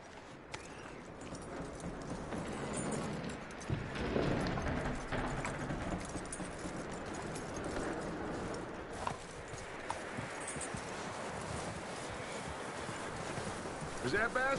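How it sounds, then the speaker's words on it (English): Horse hooves clip-clop steadily at a walk in Red Dead Redemption 2, a close, even rhythm running under ongoing speech. "That looks like a decent horse."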